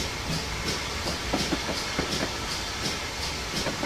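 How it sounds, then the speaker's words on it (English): A steam train runs on its rails with the brakes just released, a steady broadband rumble and hiss carrying a regular clickety-clack of wheels over rail joints, close and continuous throughout. "And everything takes time on the steam train."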